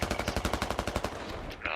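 Rapid automatic machine-gun fire in the video game Squad: a close, loud string of evenly spaced bursts for about a second, then tailing into quieter ambient noise.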